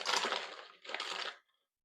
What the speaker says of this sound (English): We're gonna put some ice in our rocks glass